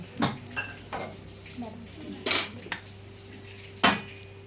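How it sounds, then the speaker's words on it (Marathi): Metal clanks and scrapes of a biryani pot being set onto an iron griddle over coals, several sharp knocks spaced out over a few seconds in a quiet kitchen. "लोखंडी तवा ठेवला आहे त्याच्यावर हा बिर्याणीचा पत्तेला आपल्याला ठेवायचं आहे"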